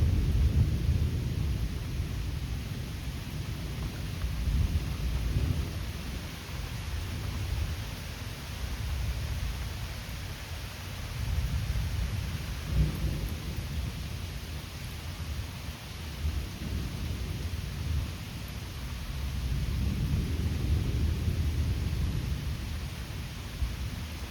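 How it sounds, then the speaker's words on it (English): Thunder rolls in long, deep, swelling rumbles during a July thunderstorm, several waves of low booming rising and fading over a constant hiss of steady rain. "There's the thunder from that other bolt."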